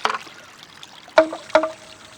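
Water trickles into a bamboo shishi-odoshi tube in a Japanese garden, a faint light dribble broken by two sharp wet knocks with short ringing tails, close and with no voices.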